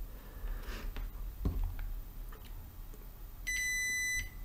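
A digital multimeter in diode measurement mode, probing a Gigabyte GTX 1660 graphics card, gives a single steady beep lasting under a second, after a few soft probe clicks.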